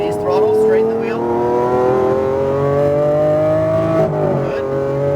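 A Lamborghini Aventador's engine pulls hard on throttle on a racing track, a loud steady rising drone close by with a brief dip near the end, while an instructor talks over it.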